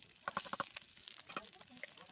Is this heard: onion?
yes